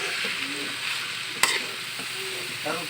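Bamboo shoots being stirred as they sauté in a pan, a steady close sizzle under soft scraping, with one sharp utensil knock partway through.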